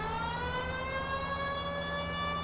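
A police car siren from the L.A. Noire video game wails steadily and loudly, a sustained rising tone with strong harmonics and no break.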